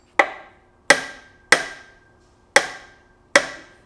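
Five sharp hammer taps seating a racing shifter bushing into a turbo Miata shifter, spaced irregularly about a second apart, each a crisp close metallic knock with a quick decay, no talking.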